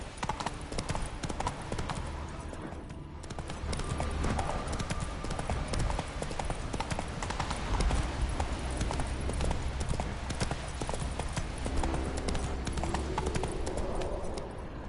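Horse hooves clip-clop steadily at a gallop in the game Witcher 3, a continuous rhythmic drumming under busy ambient game sound, close and fairly loud throughout.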